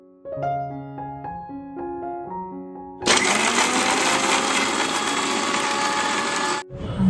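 A kitchen mixer grinder grinds green chillies and poppy seeds into a paste. After a few seconds of clear tonal notes, it roars loudly and steadily for about three and a half seconds, then cuts off sharply.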